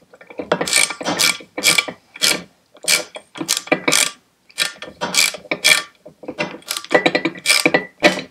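A ratchet loosening an exhaust stud on a Citroen 2CV, sharp clicking strokes in steady repeated bursts with short pauses between pulls, close and loud, no talking.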